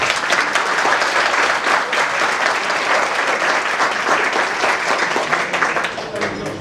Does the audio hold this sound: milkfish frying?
no